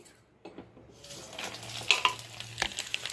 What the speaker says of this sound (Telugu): ఇప్పుడు నేను పోపు వేసేస్తానండి